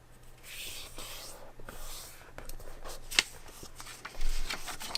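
Paper being folded and creased for a craft butterfly, soft rustling and sliding with a few sharp crinkles and taps, close and quiet against faint room hum.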